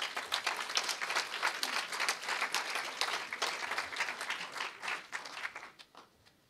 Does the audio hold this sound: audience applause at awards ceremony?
yes